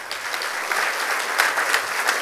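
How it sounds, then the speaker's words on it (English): Audience applause for an event's organizing committee at a keynote gathering, steady clapping from a crowd filling the short stretch without speech. "Let's give them a round of applause."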